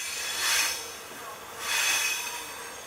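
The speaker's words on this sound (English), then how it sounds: "We headed east on one of Ukraine's unstoppable night trains." A night train heading east across Ukraine rolls along the rails with a soft, hissing rumble that swells twice and fades between, with no voices.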